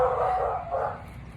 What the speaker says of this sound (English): Y'all don't gotta be barking. We know y'all here. The neighbor's dogs.